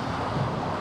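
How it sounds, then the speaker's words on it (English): Strong wind of about 20 knots buffets the microphone aboard a Beneteau First 27 SE sailboat running downwind, a steady broadband rush with no talk. "It's about 20 knots of wind, 16 gusting up to 20 over"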